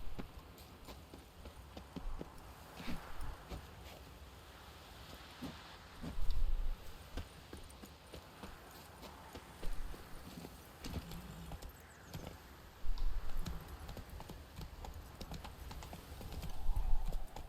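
Roach, the horse in the video game The Witcher 3, with hooves clip-clopping in a steady trotting rhythm, moderately close, with a few louder stomps, faint keyboard clicks and soft sounds in the background.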